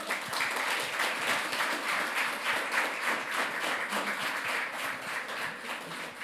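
An audience at a film-pitching session applauds steadily, with dense, sustained clapping that holds a constant level from start to finish and no voices above it.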